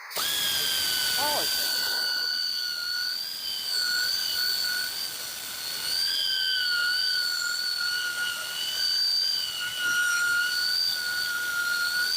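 A polishing machine buffs the rear glass of a Chevy truck, giving a steady high-pitched motor whine with shifting overtones that holds for the whole stretch at close range, with no talk over it.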